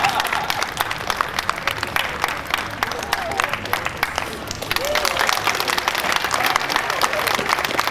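Audience applause at a French street performance during a juggling act, steady dense clapping that swells near the end, with a voice talking over it.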